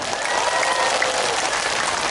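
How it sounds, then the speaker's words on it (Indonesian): Audience at an outdoor Islamic sermon gathering in Jorong, Tanah Laut, South Kalimantan breaks into steady applause, a dense, even wash of many clapping hands sustained at a constant level for a couple of seconds without talk. "Mana tepuk tangannya?"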